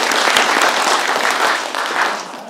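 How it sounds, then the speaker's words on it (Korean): A theater audience claps steadily at a film screening Q&A for the Korean movie 만분의 일초, a dense, loud wash of many hands that holds for a couple of seconds and eases slightly near the end. "박수 부탁드릴게요."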